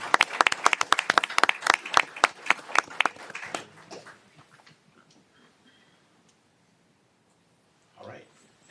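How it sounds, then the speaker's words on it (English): Staff receive a round of applause at a council meeting: a burst of sharp, dense hand clapping from a room of people that fades out after about four seconds, followed by quiet and a brief spoken voice. "let's give our staff a great big round of applause"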